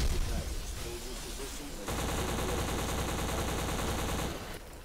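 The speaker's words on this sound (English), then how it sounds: "there's so much gunfire" Call of Duty Black Ops gameplay fills with heavy automatic gunfire, a dense loud rattle that starts abruptly after a rumbling opening and continues without pause for a few seconds before easing.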